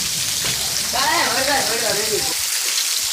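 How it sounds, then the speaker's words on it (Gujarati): Heavy rain pours steadily during a thunderstorm in a village, a constant broadband hiss throughout, with a voice speaking briefly over it. "વરસાદ બહુ પડ્યો અત્યારે જોઈ લો"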